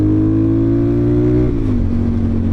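A Suzuki DRZ400SM motorcycle engine with a Lectron carburetor runs steadily up close, a loud continuous drone whose pitch dips slightly partway through as it settles unevenly.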